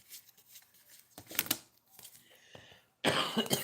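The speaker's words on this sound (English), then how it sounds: "I don't know why I'm starting to cough." A few short, harsh coughs break out in bursts, close and fairly loud, with softer rustling between them and a final sharper burst at the end.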